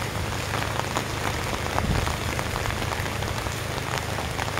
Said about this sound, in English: This is my subdivision walk on a rainy Thursday.